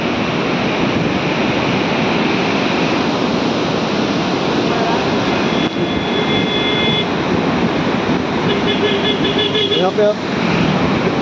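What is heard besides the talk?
rushing flood water at Galudih Barrage dam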